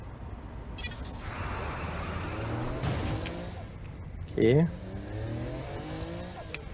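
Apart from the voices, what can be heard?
car engine driving in the video game Saints Row: The Third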